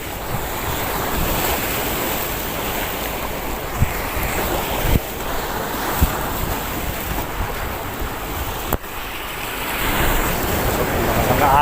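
Rough sea surf and steady wind buffet the microphone on a fishing trip, a continuous loud roar of waves with occasional thumps and faint voices beneath.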